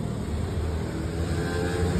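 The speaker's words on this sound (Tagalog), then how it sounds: "Tsaka yung tunog ng start niya, parang walang compression" A car engine with no compression cranks in a steady, loud, low droning churn, continuous throughout without catching, alone with no speech.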